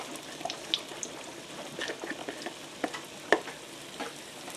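Batter poured into a hot pan sizzles with a steady, soft crackling hiss dotted with sharp little pops, heard up close and with no voices.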